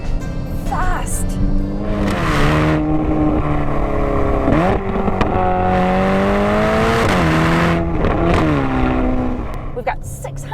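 A Ferrari Portofino's 600-horsepower V8 revs hard through several gears, its pitch climbing and dropping with each shift, loud and close throughout, with some wind and road noise.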